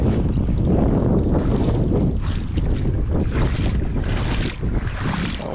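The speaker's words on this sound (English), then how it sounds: "Don't worry about the wind." Strong outdoor wind buffets and roars across the microphone in gusting waves, loud and close, with no other clear sound standing out.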